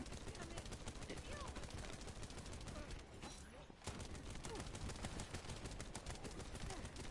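Rapid sustained automatic gunfire in The First Descendant, a dense stream of shots that barely lets up apart from one short pause, fairly faint, with a voice talking underneath.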